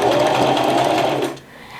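A sewing machine stitching a zipper onto a sweater, running in one loud continuous whir for over a second before stopping abruptly into quiet.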